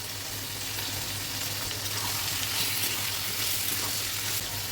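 Broiler chicken and quartered potato fry in hot oil in a pan, giving a loud, steady, close sizzle throughout with no talking.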